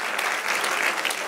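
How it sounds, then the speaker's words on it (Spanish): A church congregation claps together in a dense, continuous burst of applause that fills the room loudly and evenly for a short moment. "Den un aplauso al Señor."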